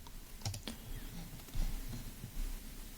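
Computer mouse clicks at a desk during software use, a few sharp close clicks in a short burst among light tapping, with no talking.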